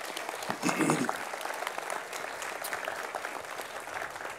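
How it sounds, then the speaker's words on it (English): A room of people at a graduation ceremony breaks into steady applause for the staff, the clapping continuing throughout with a voice briefly audible near the start. "Just a round of applause for our staff"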